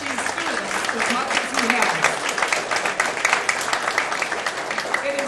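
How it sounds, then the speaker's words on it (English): Audience at a city band summer concert applauding, steady dense clapping throughout at moderate-to-loud level, with a voice speaking over it. "I want to give a round of applause to Chuck for helping these students as much"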